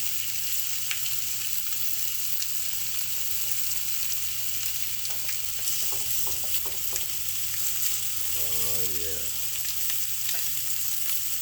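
Steak and seafood sizzle on a hot grill in a steady, dense crackle that runs unbroken throughout, with faint clinks and a brief scrape partway.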